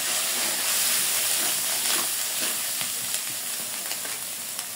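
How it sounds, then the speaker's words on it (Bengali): Spice paste of cumin, coriander, turmeric and dried chili frying in a pan, a loud, dense, continuous sizzle with scattered crackles and light stirring scrapes, close by. "মশলাটা একটু কষায় নিতে হবে"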